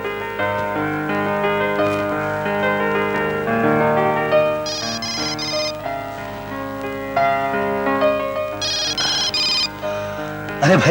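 A melodic electronic phone ringtone plays loudly, repeating its bright tune in bursts with short pauses between phrases.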